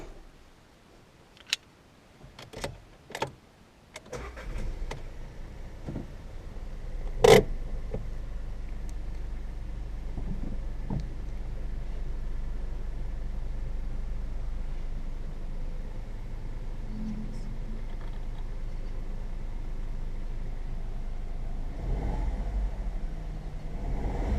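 A Seat Ibiza 1.0 TSI 95 hp petrol car is started after a few clicks and thumps, its engine then settling into a steady, quiet idle hum that continues close by with no talk.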